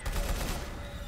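Rapid gunfire in the game Gmod Tower, a brief dense burst of overlapping automatic shots that fades slightly, loud and alone.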